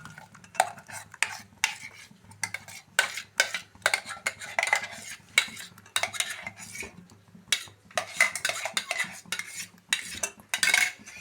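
A spoon stirs blended mango into milk in a pot on the stove while making pudding, giving repeated metallic clinks and scrapes in an uneven rhythm, close and clear, with no talking.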